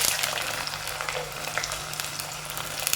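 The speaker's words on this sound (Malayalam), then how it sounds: "അതിലേക്ക് നമുക്ക് പച്ചമുളകും ഉള്ളി ഇടും" Green chillies and onion frying in hot oil for a pearl spot fish curry, a steady broadband sizzle with small crackles and pops running throughout, close and fairly even in level, with no talking.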